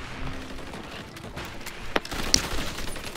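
Gunfire in the survival game Rust, a handful of sharp distant shots cracking over steady background noise, with a louder burst near the end.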